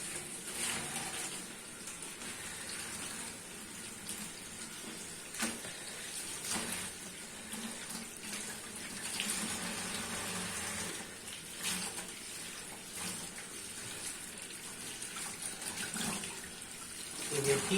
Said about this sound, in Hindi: इसे मैं थोड़ी थोड़ी करके धो दूंगा, ठीक है, खुले पानी के साथ।